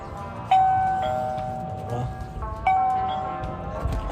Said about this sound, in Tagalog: Doorbell tayo.